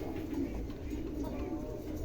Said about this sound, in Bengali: দেখেন চমৎকার একজোড়া কবুতর, দুটাই অ্যান্ডোলিশিয়ান